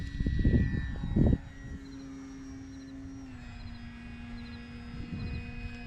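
An FMS Kingfisher RC floatplane running a 2700 3S battery flies overhead at low light, its electric motor giving a steady, fairly distant drone that rises and falls slightly, with brief louder rumbles at the start and near the end.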